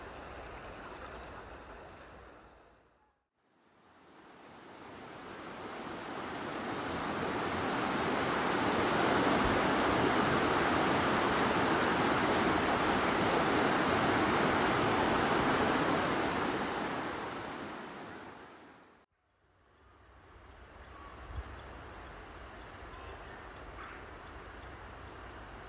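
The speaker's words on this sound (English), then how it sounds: "the water is flowing fast today after heavy rain" Fast-flowing river water after heavy rain, heard from a wooden bridge opposite the Cavendish Pavilion at Bolton Abbey; a loud, steady rushing roar swells up and holds for about fifteen seconds before dropping away to quieter surroundings.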